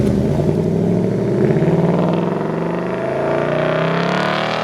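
A Ford 5.0 V8 with Performance Pack 1 rumbles past at a Houston car show, its deep burbling exhaust loud and close, swelling and shifting pitch as it rolls out.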